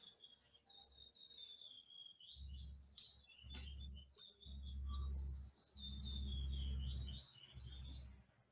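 A small bird chirps in the background almost continuously, a thin high twittering line of quick repeated notes, faint and steady while low thumping handling noises come and go nearby.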